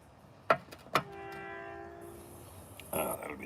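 Two sharp clacks ring out, then a passing train sounds a long, steady horn blast that holds for over a second before fading, followed by rushing rail noise and a brief voice.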